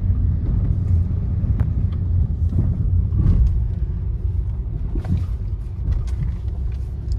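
Car interior on the drive from Panvel to Thane, with a steady low road rumble and engine drone throughout and faint wind and road noise, and no talking.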